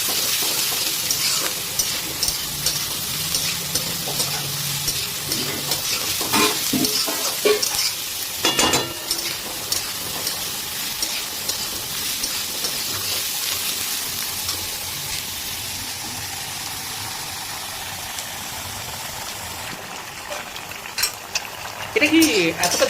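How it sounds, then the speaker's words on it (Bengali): Onions and green chilies frying in a pan for a bitter gourd dish, giving a steady sizzle with intermittent scraping stirs of a spatula, fairly close, while faint voices sound in the background. "আর এদিকে দেখছেন পেঁয়াজ আর লঙ্কাটা ভাজা চলছে"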